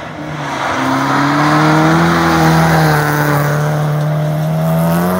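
A 16-valve car engine revs hard and close, its loud rising whine held and climbing steadily through the gears on a hairpin-heavy course, with no gaps.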